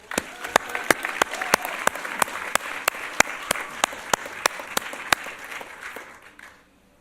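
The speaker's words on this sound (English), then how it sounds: "Let's give them all a round of applause." Rhythmic applause at an event honoring directly impacted people, with sharp, evenly spaced claps over a steady wash of crowd clapping, fading out near the end.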